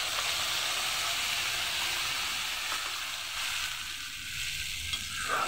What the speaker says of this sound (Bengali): জিরে ফোড়ন দেওয়ার পর এখানে আমি সেই যে মশলাটা আমি ব্লেন্ড করে নিয়েছি সেটা আমি দিয়ে দিচ্ছি।